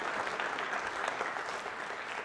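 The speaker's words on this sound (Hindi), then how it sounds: "तालियां बजाइए इनके लिए जोरदार तरीके से आप।" Dense, steady applause from an audience at a university quiz show, continuous and even at moderate distance with no voices over it.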